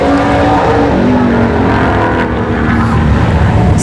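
Mercedes CLK 550 at a drag strip test-and-tune session, a loud continuous engine roar that stays close and strong throughout.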